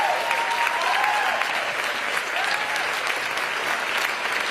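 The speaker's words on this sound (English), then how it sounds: "Let's give them all a big round of applause." Sustained applause from an audience at a political speech, a dense steady wash of clapping that stays loud and even throughout without letting up.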